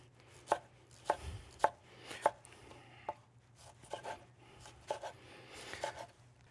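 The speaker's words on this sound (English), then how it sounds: "I'm just gonna chop it down like so. I'm gonna chop them right up." A knife chops salsa ingredients, including pepper and avocado, on a cutting board in a series of distinct, close thuds, evenly spaced at first and then coming in looser clusters, with no voices.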